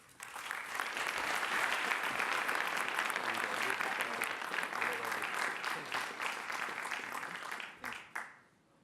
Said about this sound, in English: So I want to ask you please to help me with a big applause for Eric.